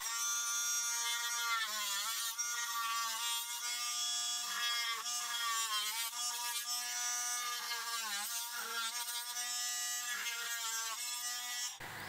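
An IMAX IMT-12V oscillating multitool plunge-cuts into a workpiece, giving a steady, close, high buzzing whine that dips and wavers in pitch as the blade bites, running continuously for about twelve seconds before stopping abruptly.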